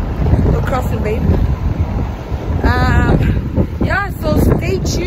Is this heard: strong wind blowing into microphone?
yes